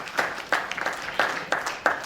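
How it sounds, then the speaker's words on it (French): A church congregation at a Sunday worship service applauding, a short run of close, distinct claps spaced fairly evenly, with no talk over them. "Acclamons la parole de Dieu."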